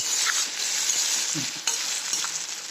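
Steady hissing sizzle of potatoes and sabudana frying in a kadhai, with a few soft scrapes and taps of stirring, no voices.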